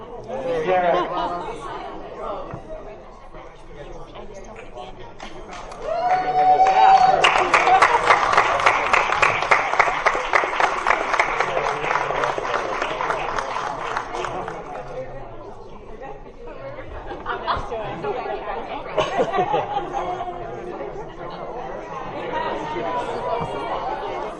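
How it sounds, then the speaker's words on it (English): An audience at a board of education meeting breaks into loud sustained applause lasting several seconds, with chatter before and after as the clapping fades. "can we get one more big round of applause"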